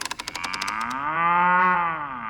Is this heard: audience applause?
no